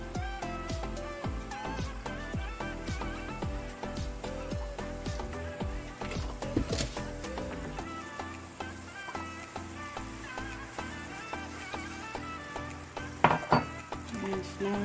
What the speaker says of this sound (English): And now just stir